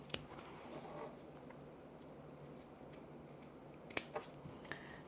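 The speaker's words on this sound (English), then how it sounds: "use my scissors to snip up to those corners" Scissors snipping into sewn fabric up to the corners of a tote and crossbody bag, a few quiet close cuts with sharp clicks clustered near the end over soft rustling.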